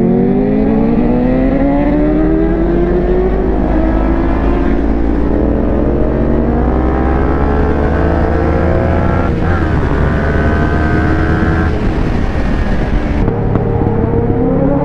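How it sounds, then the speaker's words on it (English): Two Kawasaki Ninja sport bikes, a ZX6R and a 636, accelerating hard from a rolling 40 mph start, engines screaming loud through rising gear pulls with shifts, close and continuous. "I think these two guys, ZX6R and 636, both Kawasaki ninjas, are gonna be going at it."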